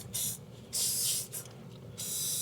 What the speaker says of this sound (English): Give it a good spray all the way around.